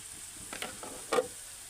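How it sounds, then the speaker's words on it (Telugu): Fried prawns tipped into a pan of cooked ginger paste, giving a soft hiss of sizzling with a few quick scraping stirs, brief and fairly quiet. "అల్లం పేస్ట్ పచ్చివాసన పోయిన తర్వాత మనం ముందుగా క్లీన్ చేసుకొని ఫ్రై చేసి పెట్టుకున్న రొయ్యలను వేసుకోవాలి"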